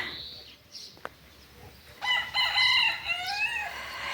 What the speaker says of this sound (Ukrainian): півник сусідський вас вітає. Такий то маленький, декоративний, мабуть.